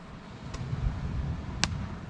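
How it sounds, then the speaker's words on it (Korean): Fireworks set off by others pop twice in the distance near a winter seaside campsite, two brief faint cracks over a quiet low background rumble. "공짜 불꽃놀이."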